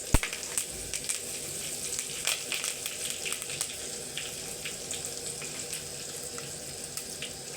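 Curry leaves crackle and sizzle in hot oil alongside whole spices (cinnamon, shahjeera, cloves, bay leaf, cardamom) for a methi paneer pulao, a steady close hiss dotted with sharp pops throughout.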